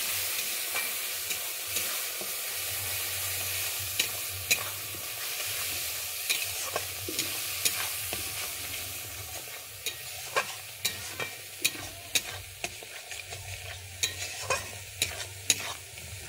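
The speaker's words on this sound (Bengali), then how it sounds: "আমি এটাকে দিয়ে ভালোভাবে কষিয়ে নিচ্ছি" A paste of ginger, nuts and tomato being sautéed for a Bengali vegetarian taro root curry: a soft steady frying hiss close by, with a spoon scraping and tapping the pan at irregular intervals that come more often toward the end.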